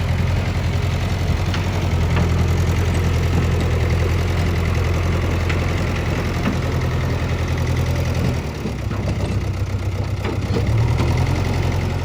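A tractor engine idles steadily and close by with a low, continuous rumble and a brief dip near the end, no voices over it.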